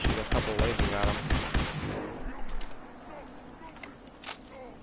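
A burst of laser weapon shots in Fallout 4: a rapid string of sharp electronic zaps in the first two seconds, then a faint lone shot later as the scene quiets.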